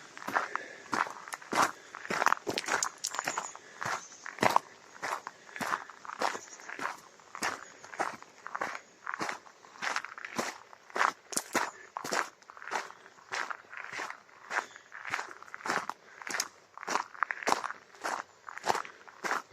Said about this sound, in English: It's a bit noisy underfoot if you're approaching wildlife you want to photograph